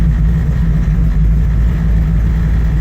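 A 1968 Chevrolet Camaro engine running as it warms up, giving a steady, close, low rumble that holds evenly with no other sounds.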